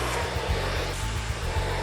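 Hair dryer fitted with a concentrator nozzle blowing during a smooth straight blow-out, a close, loud, steady rushing airflow with slight low fluttering, heard alone.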